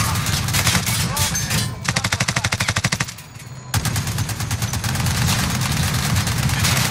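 Automatic gunfire in a Warzone armored royale match, with steady machine-gun bursts, a distinct rapid run of evenly spaced shots in the middle, and a brief lull before heavy firing resumes, loud and close.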